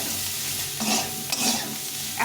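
Red chili powder and cumin powder frying in hot oil for a vegetarian dal, a close, continuous sizzle with a couple of swelling bursts as the spices are stirred.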